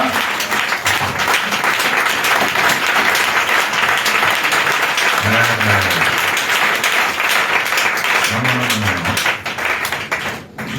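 A church congregation at a French-language worship service claps and cheers in praise, sustained dense applause filling the room, with a few voices rising over it near the middle and end.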